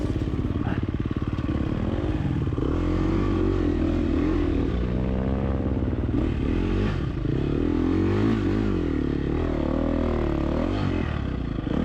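An enduro motorcycle ridden across the Utah desert at Swingarm City, its engine droning loudly and continuously, rising and falling in pitch as the rider throttles up and down, with clatter from rough terrain.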